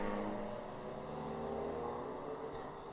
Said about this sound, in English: Looks like the Bandits car coming around through turn 8A.